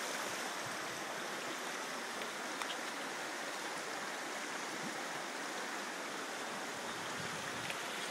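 Stevens Creek runs in a steady, even rush of flowing water at a park, with no voices over it.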